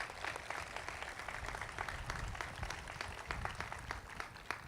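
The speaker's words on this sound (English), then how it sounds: "Let's please give him a round of applause." An audience at an academic facility dedication ceremony gives a round of applause, steady dense clapping from many hands at a distance, fairly faint and continuing throughout without talk.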